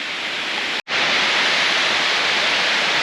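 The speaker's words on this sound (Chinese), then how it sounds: "右下方是下沉的瀑布，旧寮瀑布在这边。" A roughly 30-metre waterfall, Jiuliao Waterfall in Yilan, pours in a steady, loud broadband rush that cuts out for a split second before returning at full strength.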